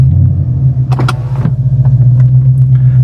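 A 2013 Ford Mustang GT with an MT82 manual gearbox pulls away down the road, with a loud, deep, steady engine rumble heard from inside the car and a few brief mechanical clicks near the start.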